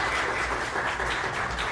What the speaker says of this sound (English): Round of applause for Derek.